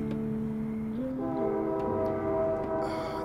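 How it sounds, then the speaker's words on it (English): A train pulls in with a steady, loud rumble and sustained tonal whine, the pitch shifting partway through as it slows, with brief clanks near the end. "That's my train."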